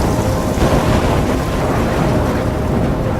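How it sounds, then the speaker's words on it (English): Thunderstorm in the video game Life is Strange, with steady heavy rain and deep rumbling thunder that fill the space continuously and loudly, with no voices. "I'm trapped in a storm?"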